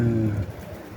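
Kosovo tumbler pigeon cooing close by in a low, rolling burst that fades after the first half second.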